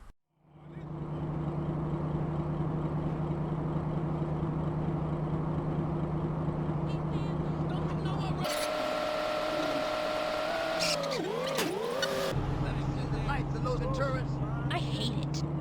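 Steady truck engine drone in Grand Theft Auto: San Andreas Definitive Edition holding one unchanging pitch, then a shift to a higher whine that wavers briefly before settling back to the flat hum.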